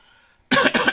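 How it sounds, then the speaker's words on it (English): A sudden harsh cough from a man, two or three quick rough bursts close to the mic after a brief near-silence. "Man, this cough is crazy"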